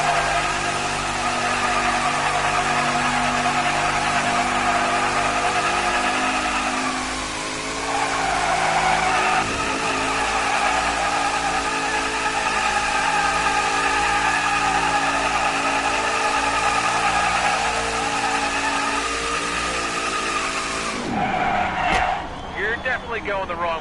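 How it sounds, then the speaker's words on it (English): NASCAR Cup Series car doing a burnout at Homestead-Miami, its engine screaming at high, sustained revs with tire squeal for about twenty seconds, loud and continuous, before a sudden sharp change near the end; a commentator talks over it. "It's time for a burnout"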